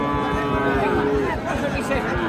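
A young Friesian heifer lets out a drawn-out moo close by, with other cattle and people murmuring in the background at a cattle market in Naogaon, Bangladesh.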